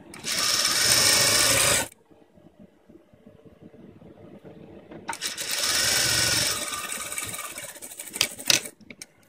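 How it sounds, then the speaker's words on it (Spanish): A sewing machine stitches fabric for a rabbit-shaped pajama holder in bursts of fast, close whirring, with a quiet pause of handling between them and light clicks at the end. "Ahora le damos la vuelta y la terminamos de coser por el otro lado."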